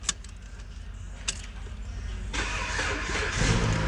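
Car engine with a replaced key and SKIM immobilizer module cranks with a couple of clicks, then catches and runs with a rising roar that swells near the end, close and moderately loud, without speech.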